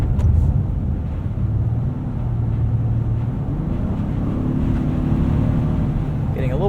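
2019 Honda Passport Elite AWD driving at night on a winter highway and onto an entrance ramp, heard as a steady low engine and road rumble inside the cabin.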